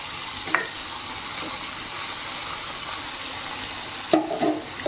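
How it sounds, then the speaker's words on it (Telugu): Boiled black-eyed peas fry in a pan with a steady, moderate sizzle that runs throughout, broken by a couple of short clattering stirs. "ఇప్పుడు ఉడికించి పెట్టుకున్న అలసందలను యాడ్ చేసుకుందాం. వీటిని బాగా ఫ్రై చేసుకోవాలి."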